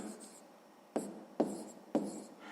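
A pen writes out a division step for a sixth-grade math exercise on paper, giving quiet, scratchy strokes with a few sharper taps as new marks start. The writing is close and soft, with no one talking.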